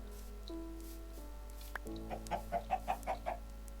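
A chicken in the video game Minecraft clucks in a quick run of about six short, bright, evenly spaced notes, following a soft thud and low steady background hum.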